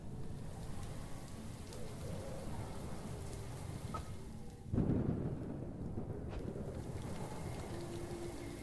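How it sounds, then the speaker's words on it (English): Steady rain patters on surfaces across a game map while a muffled thunder rumble rolls in around the middle, swelling briefly then fading back under the continuous rainfall. "I like how the thunder gets muffled by the map."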